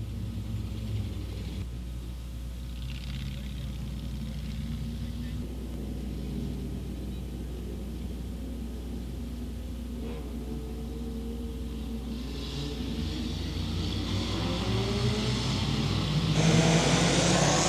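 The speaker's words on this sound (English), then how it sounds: "They're racing out of turn two side by side." Front wheel drive race cars on the oval at Crossville Raceway roar out of turn two side by side, a continuous engine rumble that swells louder toward the end, with a track announcer talking over it.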